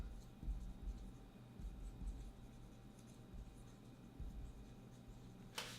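Pen scratching on paper while answers to a GCSE chemistry equilibrium question are written out, a soft close scribbling with short pauses and faint rustles, no voice.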